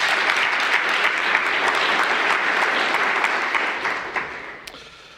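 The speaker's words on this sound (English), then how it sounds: "let's give them all a big round of applause" Steady applause from an audience at an academic event on educational disparities in Wisconsin, dense clapping through most of the stretch before thinning and fading out near the end.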